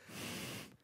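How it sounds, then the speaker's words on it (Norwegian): One short, forceful breath is drawn in through the nose. It sounds like a quick, close sniff or snort and lasts under a second, alone in a quiet radio studio. "nå skal en av oss puste gjennom nesa"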